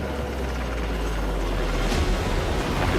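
A Bangladesh Navy maritime patrol helicopter flying, its rotor and engine a loud, steady, dense roar that holds throughout with no voices.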